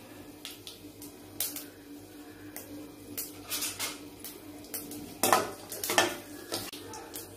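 Mustard seeds with fenugreek and cumin splutter in hot oil for a tamarind kuzhambu, giving scattered faint pops and crackles with occasional sharper bursts and light utensil clinks.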